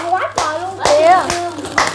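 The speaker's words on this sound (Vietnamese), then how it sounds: "Trời ơi, vỗ tay quá." Family of a grandmother and grandchildren celebrating the arrival of a big gift box after their new house is finished, clapping hands: a few sharp, separate claps spaced about half a second apart, mixed in with excited children's voices talking.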